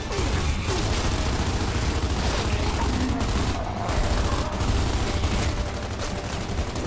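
Continuous rattling gunfire in Gears of War 2, a dense, steady stream of shots with heavy low-end thump that keeps going for several seconds without a break.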